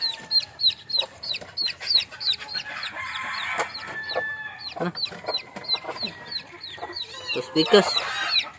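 A mother hen and her chicks on a farm, with steady rhythmic clucking and sharp peeping calls repeating throughout, close by, a brief rooster-like crow near the end and a person speaking briefly.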